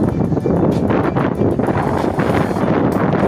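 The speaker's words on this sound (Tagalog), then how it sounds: "Masyado malakas ang hangin dito" Strong wind in Tanza, Cavite buffets the microphone in continuous heavy gusts, a loud blustery rumble from start to finish.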